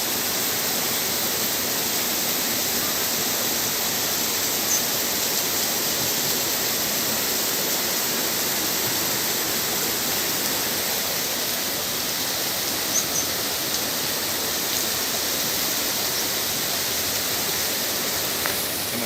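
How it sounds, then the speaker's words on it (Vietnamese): A small stream babbles near Da Han waterfall in Dong Nai province, Vietnam, making a steady, close, hissing rush of flowing water that never lets up, with no voices. "suối nhỏ róc rách rồi nó chảy đây"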